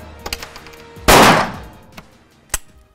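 Gunfire at a shooting range, heard as one loud, close report with a ringing decay and a few sharper, fainter cracks and clanks before and after it.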